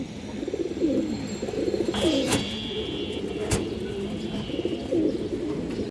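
Pigeons, silver bagha birds kept for sale, coo steadily in a low rolling chorus close by, with a few brief chirps rising above it and no talk.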